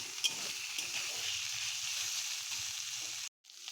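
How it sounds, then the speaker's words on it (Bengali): Spice masala with turmeric powder fries in a pan, a steady moderate sizzle with soft stirring scrapes, cutting off briefly near the end. "এবার আমরা মশলাটা ভালো করে কষিয়ে নেব।"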